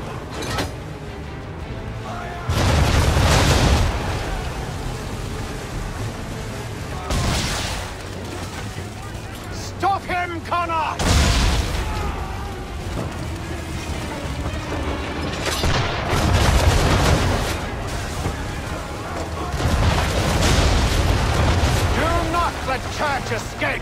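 Ship cannons fire during a naval battle in Assassin's Creed III, heavy booming volleys arriving in several separated rounds over a constant sea-and-battle roar, with shouting voices mixed among the blasts.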